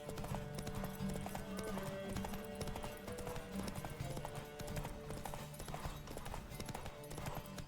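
Rapid clip-clop of a horse's galloping hooves in The Witcher 3: Wild Hunt, steady and continuous over a dense layer of game music and effects, with a brief whinny.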